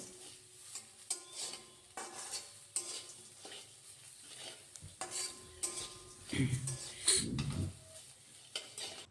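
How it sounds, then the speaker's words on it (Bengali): Soybean chunks and lentils frying in a pan with stirring, a low steady sizzle broken by scraping and clinking of a spoon against the pan, with a louder burst of clattering stirring partway through; no talking. "এখন সয়াবিন আর ডালটা একটু সময় ভেজে আমি পাশে তুলে রাখবো আলাদা করে"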